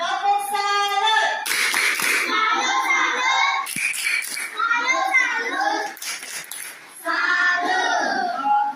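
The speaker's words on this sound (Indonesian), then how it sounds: "Oke, tepuk salut dulu. Tepuk salut." Schoolchildren in an Indonesian classroom perform the tepuk salut clapping chant, rhythmic hand claps mixed with children chanting and calling out together, loud and close, with brief pauses between rounds.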